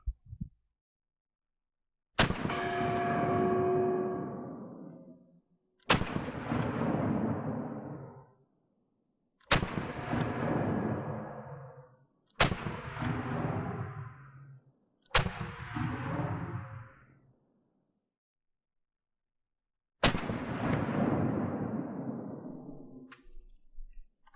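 Six slowed-down gunshots from Glock 43X MOS and Shadow Systems CR920XP compact pistols, each a deep booming hit with a long decaying tail, spaced several seconds apart.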